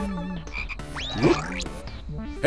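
Cartoon frogs croak among bright, playful game sound effects and synthesized tones in a preschool alphabet game, with quick swooping chirps and croaks packed into a couple of seconds.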